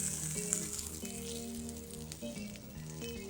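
Slices of andouille de Guémené warm in a lightly heated frying pan for a buckwheat galette, giving a soft, steady sizzle with a low hum in the background.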